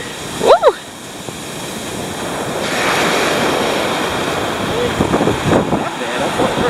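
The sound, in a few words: Pacific Ocean waves on the beach at Point Reyes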